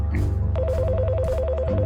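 A telephone rings in the video game Priest Simulator, a steady warbling electronic ring pattern that repeats over a low background hum.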